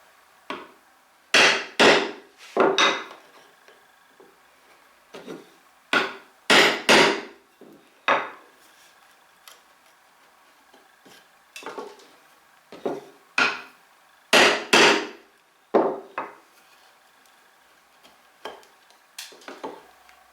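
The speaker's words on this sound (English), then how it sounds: "before I know it I'll have all four mortises chopped to depth" A chisel struck with a mallet chops mortises into oak: sharp, loud wooden knocks arrive in uneven clusters of two or three, separated by brief pauses, close up and with no talking.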